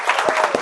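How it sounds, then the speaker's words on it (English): An audience at a political panel event in Minnesota applauds in a short, loud burst of dense clapping, close and continuous. "A louder round of applause."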